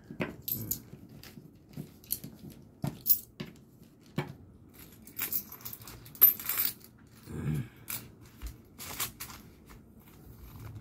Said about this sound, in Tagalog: Ang barya dito sa may zipper, dyan mo siya ilalagay.